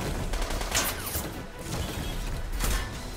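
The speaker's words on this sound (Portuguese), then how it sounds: "Vou revidar com um tiro." Gunfire in the video game Front Mission 1st Remake, bursts of mechanical shots and clattering impacts in two or three loud clusters, with no talking.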